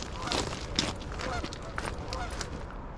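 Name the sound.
geese honking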